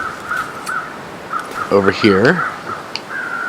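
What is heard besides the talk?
crows cawing near a dead stag, from video game The Long Dark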